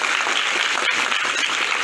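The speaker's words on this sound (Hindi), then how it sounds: "बाकी बच्चे ताली बजा सकते हैं।" Children clap together at a Children's Day police event, a brief dense burst of many hands applauding evenly.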